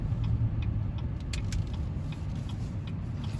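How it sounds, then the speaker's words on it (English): A used Cadillac Escalade SUV makes a U-turn on a two-lane road, heard as a steady low engine and road hum from inside the cabin with a few light clicks. "I'm gonna make a U-turn right now and show you guys."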